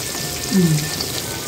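Sliced brinjal (eggplant) frying in hot oil in a pan, a steady close crackling sizzle like light rain that holds throughout, with a brief faint voice sound in the middle.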